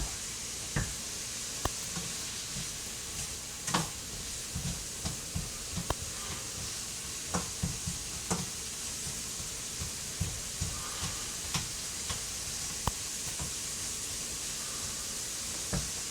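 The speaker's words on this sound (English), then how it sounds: "We're cooking onions." Onions frying in a pan give a faint, steady sizzle, broken by light clicks and knocks of a utensil against the pan.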